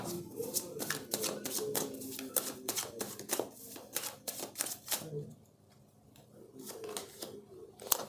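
Tarot cards from a Swords-heavy reading are handled and drawn, giving crisp repeated snaps and flicks in quick bursts, a quieter lull, then more card clicks, with a soft voice faintly underneath.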